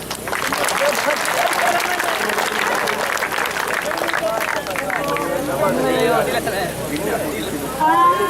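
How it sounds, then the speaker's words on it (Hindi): An audience at a youth-wing event applauds and cheers to welcome a singer, steady crowd clapping with babble and voices, then the clapping fades as singing begins. "आप सबकी तालियों में"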